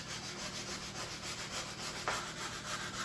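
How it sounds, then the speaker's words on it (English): Steady, close scratchy rubbing of 220-grit sandpaper on wooden trim, in continuous back-and-forth strokes with no voices. "for sandpaper, I just use a 220 grit sandpaper"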